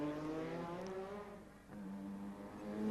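Minardi Formula 1 car with the conventional Cosworth V8 engine going past another car in qualifying at Interlagos in 1990, a harmonic engine drone that dips, then rises again as the car passes at moderate distance.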